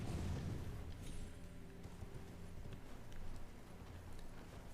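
A horse gallops and jumps up a mountain in the video game Elden Ring, a busy rumble of hoofbeats and thuds under game ambience, fairly faint and continuous.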